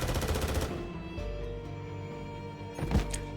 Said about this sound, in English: Countless gunshots rang, and the training grounds were soon drenched in crimson